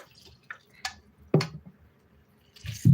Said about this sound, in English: squeeze out the water.